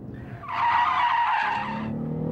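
A car drifting in the racing video game Drift It 2006 gives a loud tire squeal that rises sharply, holds for over a second, then fades back into steady engine hum.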